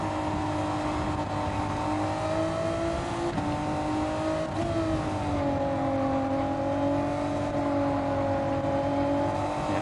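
Race car engine lapping Autopolis in Gran Turismo 7, a loud sustained engine drone with a rising and falling tonal pitch as the car shifts and accelerates, steady and close throughout with no speech.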